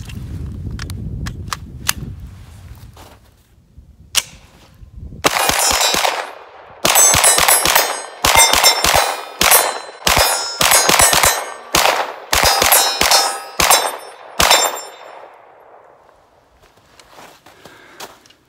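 A CZ Scorpion EVO 3 S1 firing at a range, with a long string of loud, sharp shots in quick succession, bunched in short strings with brief gaps, each followed by a ringing clang.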